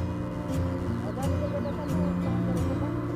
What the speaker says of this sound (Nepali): ए यो हाँस